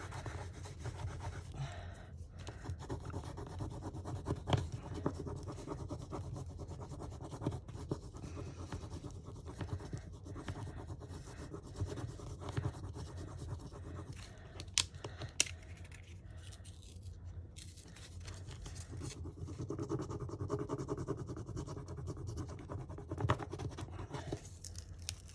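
A bone folder rubs over a paper envelope with steady, dry scratching strokes, close and soft, repeating in long passes with small pauses.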